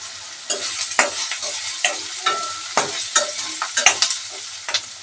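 Cinnamon sticks and cloves dropped into hot oil for a village-style gongura prawn curry, sizzling steadily while a spoon stirs with repeated scraping clinks, close and fairly loud.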